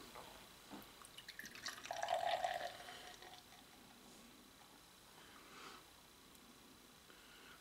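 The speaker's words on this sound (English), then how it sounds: "Let's go for a nice pour here" Breckenridge Brewery Vanilla Porter beer pours with a soft splash into a glass for a few seconds, quiet and close, then fades to faint bubbling and drips.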